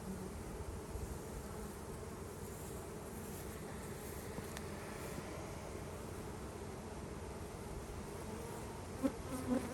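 Bees buzzing in a bee yard at a cow pasture apiary, a steady dense hum from many insects with a brief louder pass near the end.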